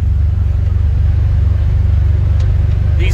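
Inside the cab of a Can-Am Defender Limited UTV driving over large rocks, a steady low engine rumble and road drone fills the space, with faint knocks from the suspension, loud and continuous with no talking.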